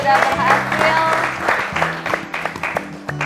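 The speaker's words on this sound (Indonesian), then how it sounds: "Sekarang kita tepuk tangan untuk kita semua ya" A classroom of students applauds together at the end of a lesson, steady dense clapping close by, with a teacher's voice speaking over it.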